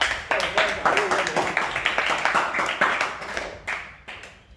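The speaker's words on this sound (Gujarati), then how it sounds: "એના માટે તાળીઓ બજાવી દો ભાઈ બધા" A group of people claps for the winner of a challenge, walking a ball along a pipe, with a lively burst of close, rapid applause that thins out toward the end.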